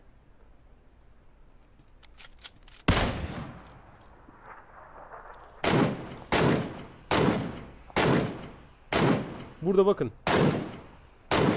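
Sharp, loud MK14 rifle shots in PUBG, a lone report followed by a steady series of about eight evenly spaced booming cracks, each with a short decaying tail, while someone speaks briefly early on.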